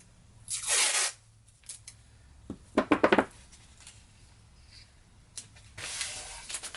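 Scissors snipping through a paper pattern for a leather holster, with a few separate close cuts, including a quick run of rapid snips in the middle, over quiet room tone.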